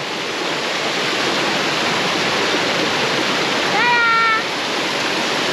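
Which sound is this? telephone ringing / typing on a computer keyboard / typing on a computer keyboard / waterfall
waterfall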